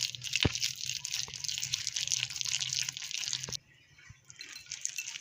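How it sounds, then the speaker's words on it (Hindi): Water is poured into spicy fish fry masala in a pan, a soft continuous splash and trickle that runs for a few seconds, then stops abruptly, with a drip or two after. "अब इसको अच्छे से हम जितने पानी की ज़रूरत होगी हम वो ऐड करेंगे"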